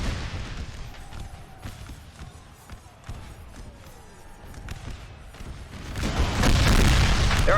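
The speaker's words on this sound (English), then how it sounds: "Their artillery is getting nice hits there" Artillery fire on a Gettysburg battlefield in the Napoleon Total War ACW mod, repeated distant booms and muffled thuds scattered across the scene, building to a louder rumbling barrage near the end.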